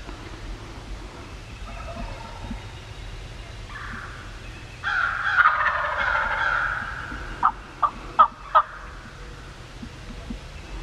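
Wild turkey gobblers gobble in the open during an Illinois spring hunt, first a longer rolling gobble and then several short sharp bursts, fairly close and clear over quiet background.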